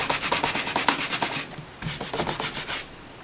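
A rubber stamp is scrubbed on a Stampin' Scrub pad, giving close, rhythmic bursts of brisk scratchy rubbing in two quick runs with a short pause between them.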